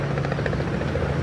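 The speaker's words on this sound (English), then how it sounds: "Sound of helicopters arriving" Military helicopters arriving and coming in to land during the 1958 Malayan Emergency, a steady close rotor thump and engine drone that fills the short clip without voices.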